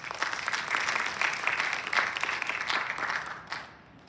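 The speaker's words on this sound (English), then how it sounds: "please join me with a round of applause" Audience applause welcoming a speaker to the stage, a fairly close, steady patter of many hands clapping that tapers off and fades at the end.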